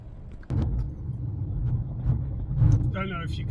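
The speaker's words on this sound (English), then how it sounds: "Don't know if you can hear the gearbox on the video." Inside a high-mileage Fiat 500 with about 140,000 miles, cruising near 50 mph: a low, steady engine and gearbox rumble drones throughout, rising slightly after a bump, with a voice briefly speaking near the end.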